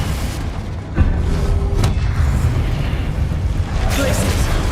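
A Confringo blasting spell bursts in Hogwarts Legacy, a heavy boom followed by a sustained rumbling roar over constant game background noise.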